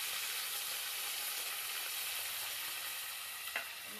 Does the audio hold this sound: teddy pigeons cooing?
no